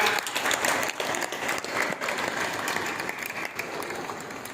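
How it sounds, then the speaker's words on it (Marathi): Steady audience applause at a yoga festival event in Shegaon, Maharashtra, a dense, continuous clapping of a crowd that holds evenly throughout without speech. "चला जोरदार टाळ्या वाजवूया"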